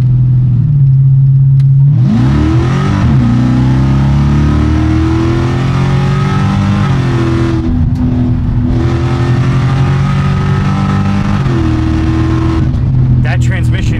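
A Dodge Charger Hellcat engine accelerating hard, a loud close roar that climbs through several gears with brief drops at each shift, rising again each time, while people talk over it inside the car.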